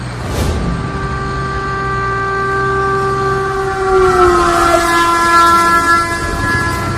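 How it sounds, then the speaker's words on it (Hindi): A train approaches along the railway track with a loud, sustained horn blast over steady rumbling and faint clickety-clack, close and continuous throughout. "इसी लाइन पर आगे से ट्रेन आ रही है।"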